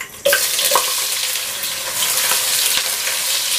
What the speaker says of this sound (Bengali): পেঁয়াজগুলোকে হালকা ব্রাউন করে ভেজে নিব।